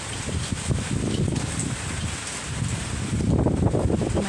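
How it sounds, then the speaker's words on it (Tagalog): Strong typhoon wind in Taiwan roars steadily against the microphone, a broad, continuous rush that surges louder near the end, with no voices present. "haguros ng hangin."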